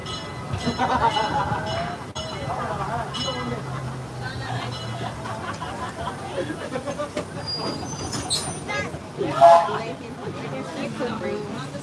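The Disneyland Railroad steam train rumbles along the tracks with a steady rolling clatter, while voices murmur and chatter in the background over the mechanical noise.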